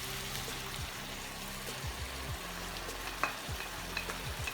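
Chicken breast pieces and pepper fry together in a pan, a steady broadband sizzle with repeated low scrapes of a spatula stirring through, close and fairly loud throughout.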